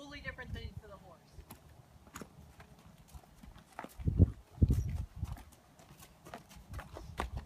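Horse hooves clopping on the ground during a training session, soft irregular footfalls with a couple of louder heavy steps midway, fairly faint and distant-sounding, with quiet talking in the background.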